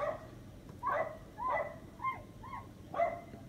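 A dog barks several times, about five sharp, spaced barks with a slightly whiny edge, fairly quiet and a little distant.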